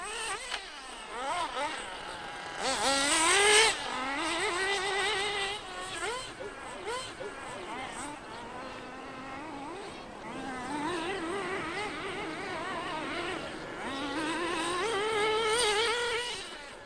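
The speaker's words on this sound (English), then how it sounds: "some aspiring racers battle to control their model cars" Small model racing cars whine and buzz as they accelerate and turn near the Catalunya circuit in Spain, their high-pitched engine tones rising and falling continuously while a voice talks over them.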